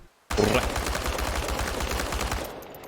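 Rapid automatic gunfire rattles in a dense, continuous burst during firing training in Chernobylite, starting abruptly after a short silence and tailing off near the end.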